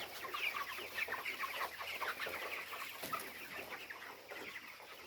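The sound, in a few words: chickens clucking in a poultry shed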